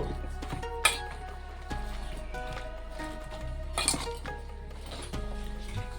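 Vegetables being mixed in a bowl with turmeric powder and mustard oil, giving light clinks and scrapes of utensil on the dish, with a few sharper clinks standing out over a low background hum.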